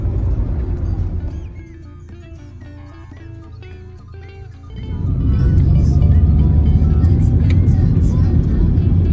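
Congested traffic at a three-way junction in Rogojampi, Banyuwangi, after Lebaran, with car engines idling and moving nearby, a steady roar that swells louder midway, faint talk underneath.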